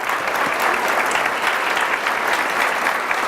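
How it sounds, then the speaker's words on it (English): Loud, dense applause from a keynote audience at a leadership symposium, a continuous roar of clapping hands that stays level throughout without voices on top. "Give her a round of applause."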